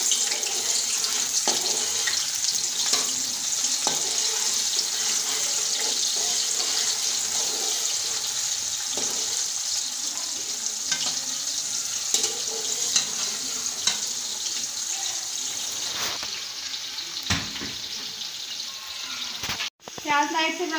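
Onions sizzling in hot ghee in a kadai for dal chawal, a steady broadband hiss that holds loud and even throughout, with occasional clinks and a brief dropout near the end.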